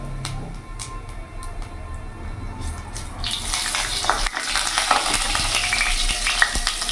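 Whole cumin seeds and dried red chili tempering in hot oil: a few faint clicks at first, then a loud, steady sizzle and crackle bursts up and keeps going, close by.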